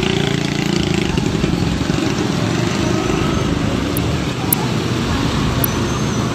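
Steady, loud drone of congested road traffic with motorcycles and cars idling and creeping along, continuous engine rumble filling the scene from start to finish without a break.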